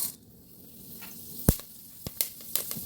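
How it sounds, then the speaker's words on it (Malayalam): Fenugreek seeds dropping into hot oil in a pan give a soft steady sizzle, with a few sharp crackles and pops scattered through the short stretch. "ഈ ഉലുവ എണ്ണയിലോട്ട് ഇട്ട് കൊടുക്കാവേ"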